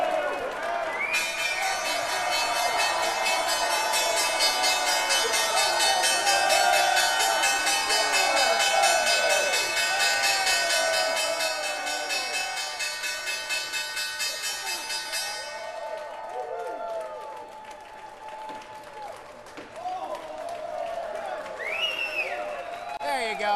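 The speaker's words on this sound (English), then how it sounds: "Time now for the closing bell." The stock market closing bell rings on and on for about fifteen seconds, bright and metallic, beneath crowd cheering and applause on the trading floor, and then the noise of the crowd carries on.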